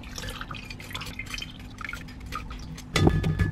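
Lemon juice is strained through a sieve to catch the seeds, giving a close, steady patter of dripping liquid, then a louder splashing pour near the end.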